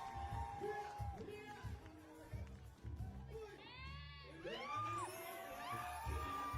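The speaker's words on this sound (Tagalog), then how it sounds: "Mas dinig dito yung sigawan ng mga audience, no?" Audience at a live show screaming and cheering in excited bursts, high shrieks rising and falling over a busy crowd with voices talking nearby.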